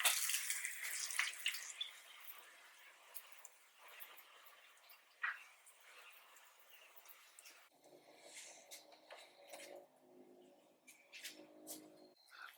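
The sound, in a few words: water being thrown on car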